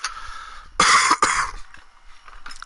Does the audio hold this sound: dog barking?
no